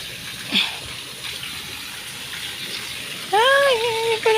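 Water flows steadily into a fish pond beside a grotto, a continuous rushing gush with a brief voice rising over it near the end.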